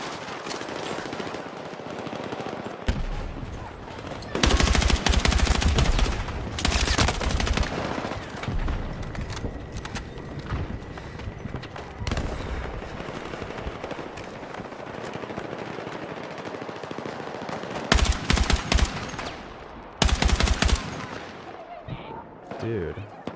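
Video game gunfire rattles in rapid automatic bursts, with loud clusters of shots near the start and toward the end. A voice talks throughout.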